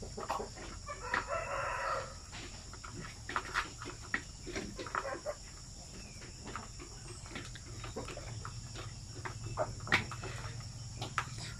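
Native chickens crow and cluck at a farm, several calls rising one after another at moderate distance over a constant bed of chirping crickets and insects, with no talking.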